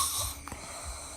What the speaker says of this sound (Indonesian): Ayo kepo yang ngorok